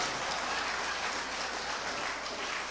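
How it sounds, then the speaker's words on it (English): Sustained applause from an audience at a school gathering, a dense, steady patter of many clapping hands throughout without pause, fairly even in loudness and lacking clear speech. "Give that man a round of applause."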